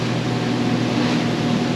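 A boat engine runs at 2,500 rpm with the vessel under way, a steady droning hum holding even and constant for the brief moment without talk.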